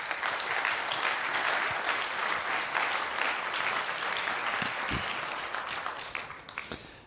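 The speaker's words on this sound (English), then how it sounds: "please give a warm welcome applause to Aedan." An audience at the 38C3 hacker conference claps steadily for several seconds to welcome a speaker on the Raspberry Pi RP2350 microcontroller, the dense applause fading out at the end.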